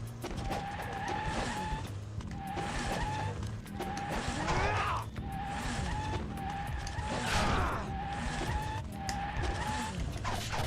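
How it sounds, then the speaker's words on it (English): Motorcycles race in a video game, with repeated revving engine whines and tire skids in a loud, continuous run, each pass rising and falling. "I hear motorcycles."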